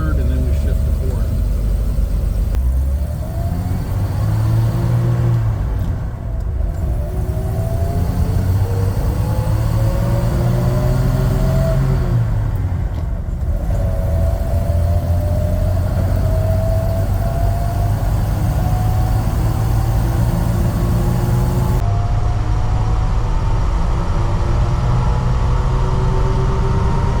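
A Toyota FJ Land Cruiser engine pulling through the gears, its drone rising in pitch, dipping at each shift and climbing again before settling into a steady higher gear, with someone talking over it.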